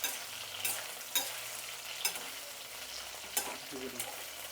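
Okra pieces dry-frying in a pan without oil give a continuous soft sizzle, broken by several sharp scraping strokes of a spatula at irregular intervals.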